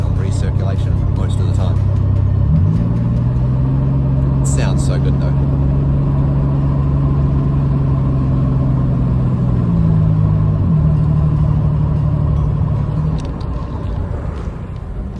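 Ford Explorer engine running steadily at idle close by, with a low steady drone that rises slightly in pitch around the middle, with some speech over it.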